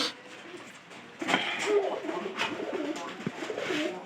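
Domestic pigeons in a home loft coo in low, rolling calls, repeated several times at close range over a faint room background.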